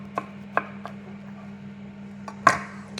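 A knife chops through a cauliflower on a cutting board in a few sharp, separate strikes, with a heavier final cut near the end over a steady low hum.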